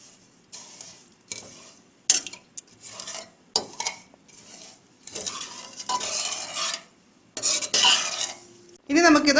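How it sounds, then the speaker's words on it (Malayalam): Metal spoon stirring semiya payasam with crushed cardamom in a pressure cooker, giving irregular scraping and clinking strokes, close and fairly loud, separated by short pauses. "ഇനി ഇതൊന്ന് ജസ്റ്റ് ഒന്ന് മിക്സ് ചെയ്യാം നമുക്ക്"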